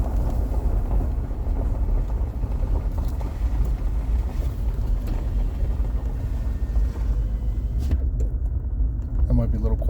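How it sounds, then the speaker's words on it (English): Steady low tire and road rumble fills a car's interior while it drives along Crystal Spring Road, a rural route through the Pennsylvania Wilds. The drone stays constant with a little wind buffeting, and a person talks over it now and then. "the road's getting a little loud"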